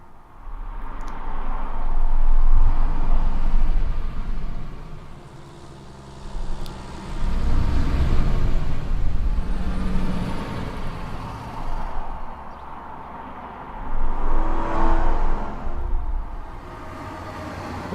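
Highway traffic rolls past in American Truck Simulator, a continuous low rumble that swells and fades as vehicles pass one after another, moderately loud with no talk.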